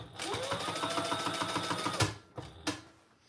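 A home sewing machine runs steadily through lightweight laptop bag materials, a close, rapid mechanical chatter that stops abruptly at two seconds, followed by two brief bursts as stitching restarts.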